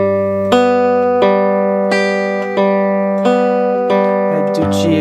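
Guitar chords picked one string at a time as an exercise for pick accuracy in 4/4 time, with clear evenly spaced attacks about every 0.7 seconds ringing close and steady, no talking.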